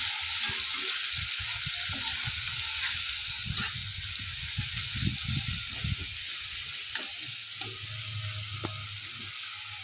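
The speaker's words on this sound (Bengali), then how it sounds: "পেঁয়াজটা একটু ভেজে নেবো" Ground onion paste frying in a pan for a prawn curry gravy, a constant close sizzle with occasional stirring scrapes throughout, no voices.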